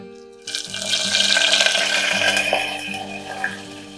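Cumin and curry leaves sizzle in hot oil for a Gujarati tempering, a steady broadband hiss that starts abruptly and holds, with faint clatter and no talk.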